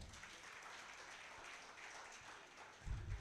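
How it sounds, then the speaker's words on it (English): Conference audience applauding during a journalism summit session, a faint, distant, even patter of clapping that continues without speech, ending with a brief low thump near the close. "Please a round of applause again."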